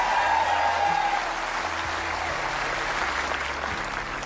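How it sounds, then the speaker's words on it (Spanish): A crowd gives a sustained ovation, a broad, even roar of clapping that fills the whole stretch at a moderate level, with faint music tones underneath. "¡Qué ovación!"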